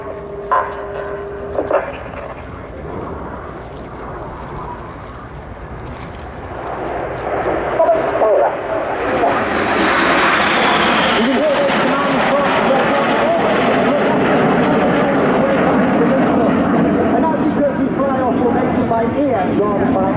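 Red Arrows jets flying the Swan formation at RIAT 2025 build from a distant rumble into a broad, sustained roar overhead, with a commentator's voice talking throughout.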